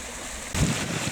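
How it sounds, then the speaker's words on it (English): A waterfall and stream rush steadily on a Fforest Fawr hillside walk, a broad, close, continuous roar of water that swells louder partway through, with wind buffeting the microphone. "Beautiful waterfall."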